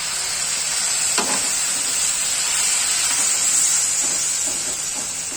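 Tomato and green chili paste frying in a pan for dhaba-style egg curry, a steady, close sizzling hiss that holds at an even level throughout with no talking.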